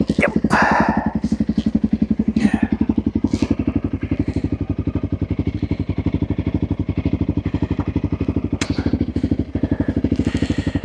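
Honda CRF300L motorcycle riding a gravel track in Iceland's Westfjords, its single-cylinder engine thrumming in a fast, steady pulse throughout, close and loud, with occasional clatter and thuds from the rough surface.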